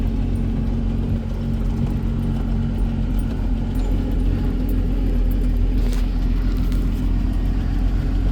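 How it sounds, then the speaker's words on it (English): A Land Rover 109 Series engine idles with a low, quiet rumble, steady and smooth, with faint mechanical rattles on top and no voices. "Listen to how quiet this car is."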